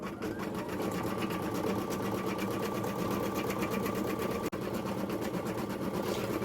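A computerized embroidery machine stitches a photo design, its needle running in a steady, fast, even rhythm close up, with one brief pause near the end.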